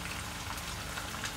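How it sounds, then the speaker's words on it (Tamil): Anchovies deep-frying in hot oil for nethili fish 65, with a dense, continuous bubbling sizzle that stays even and close throughout, no voices. "பாருங்க நல்ல ஃப்ரை ஆயிடுச்சு இப்போ நம்ம எடுத்துடலாம்"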